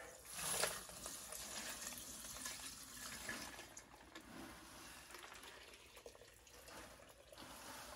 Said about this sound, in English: Don't forget to add the water.